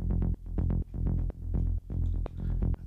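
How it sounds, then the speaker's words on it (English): A percussive, plucky, syncopated melodic techno synth bass line plays alone, its short punchy notes repeating in a steady, bouncy rhythm with brief gaps between phrases. "We're gonna focus on bass line which are kind of percussive, pluckier, syncopated bass line"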